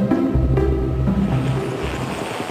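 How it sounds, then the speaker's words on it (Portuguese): A steady, low engine drone with a throbbing hum runs without pause, like a helicopter idling nearby, loud and constant. "o helicóptero precisa ficar ligado e o piloto atento a qualquer emergência"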